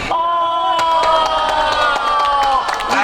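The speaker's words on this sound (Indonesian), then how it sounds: "tepuk tangan untuk kita semua" A crowd claps and cheers loudly, with scattered shouts and whoops throughout.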